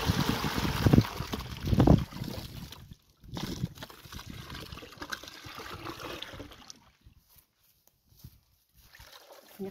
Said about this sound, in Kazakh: Сол ұйыған сүтімізді дорбамызға құйып аламыз.